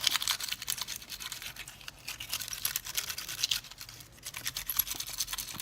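A brush sweeps small paper scraps away after cutting with a precision punch plate, giving a steady dry scratchy rustle of quick repeated strokes, close and moderately quiet, with no voices.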